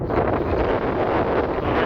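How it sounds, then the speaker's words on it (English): Strong wind buffets the microphone on a small headland by a beach near Piraeus, Greece, a steady, loud, broadband roar with constant gusty rumble and no voices. "It's getting really, really windy"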